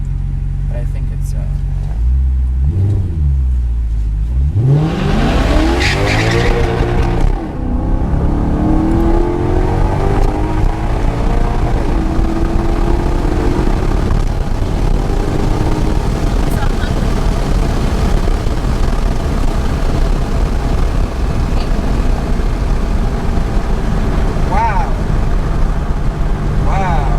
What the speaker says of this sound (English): that just roasted the tires right off first gear